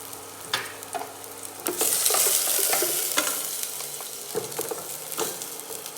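Chopped onion sautés in hot oil in a pan for vegetable soup, a close, steady sizzle broken by scraping stirs and brief louder hisses as the pieces are moved around.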